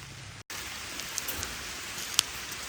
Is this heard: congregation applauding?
no